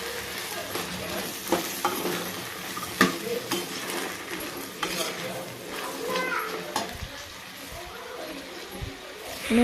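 Field beans frying in oil with tomato and onion for a sambar, a steady sizzle with scattered scrapes and clinks of a spoon against the pan; soft voices in the background.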